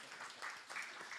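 An audience applauds at a silver jubilee ceremony for the Thiruvalluvar statue, a soft, steady wash of many hands clapping, heard faintly from a distance with no voices.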